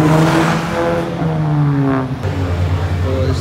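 A car engine revs loudly and close, its throaty tone rising and falling through several pitch sweeps during a night drive.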